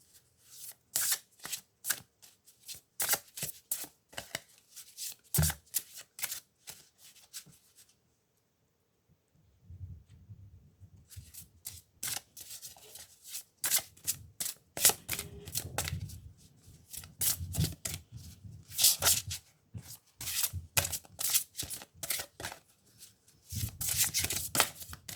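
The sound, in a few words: shuffling tarot cards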